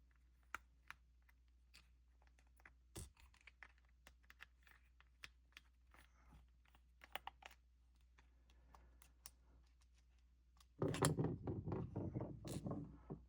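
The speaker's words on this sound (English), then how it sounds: "I'll grab my Phillips head screwdriver and go ahead and remove these two screws." A Phillips screwdriver works two small screws out of a Hyundai Santa Cruz remote key fob, giving faint scattered clicks and ticks up close, with a louder burst of rattling handling near the end; no one talks.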